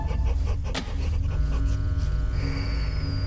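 A dog pants heavily and steadily in the horror game Fears to Fathom: Carson House, close and continuous over a low droning background, with a brief snort partway through and no clear barks.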